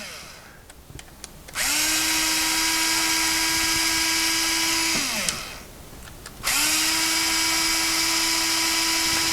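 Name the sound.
battery powered screwdriver removing small Phillips screws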